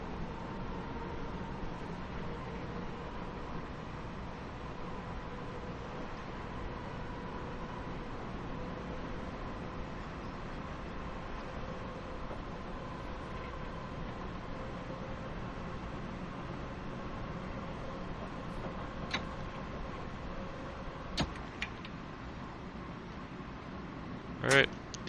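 A train rolls along the Harlem Line in Train Sim World 3, a steady low rumble with faint tonal hum and a few clicks near the end, and no talking.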